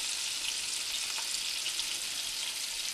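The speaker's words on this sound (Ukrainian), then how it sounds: "Перший лящик вже підсмажився, смажимо другий." Bream sizzling in hot oil in a frying pan, a continuous, even crackle and hiss with no voices.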